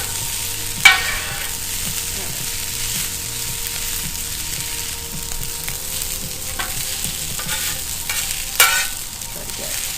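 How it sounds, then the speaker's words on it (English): Fried rice with melting butter sizzles steadily on a Camp Chef griddle over an outdoor camp fire, loud and close, with a couple of sharper scraping stirs and no talking. "Brown this up a little bit, get that butter melted, and then I'll add some additional ingredients such as soy sauce"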